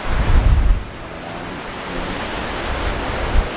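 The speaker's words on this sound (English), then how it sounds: "hopefully you can hear me with the wind blowing in straight at me" Onshore wind blows across the beach at the Moore River mouth in Guilderton, a steady broadband rush with a heavy microphone buffet at the start and another brief gust near the end.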